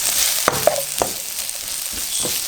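Garlic and paprika fry in a pan with shallot, giving a steady close sizzle and a few sharp clicks and taps from stirring. The cooking is fairly loud and no one talks.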